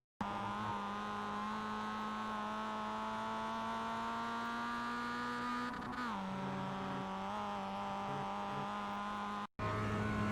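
Mazda MX-5 race car in the iRacing sim on Oran Park Grand Prix circuit, engine screaming loud and steady up the straight, then a quick gear change drops the pitch before it climbs again, with a brief cut near the end.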